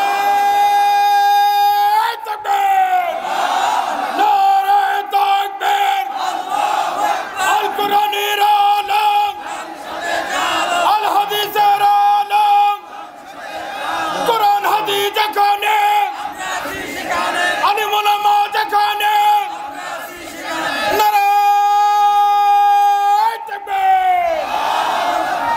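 At an outdoor Bangla religious sermon gathering, a large crowd roars the takbir back to the preacher, with repeated loud, swelling communal shouts and a strongly reverberant sound system.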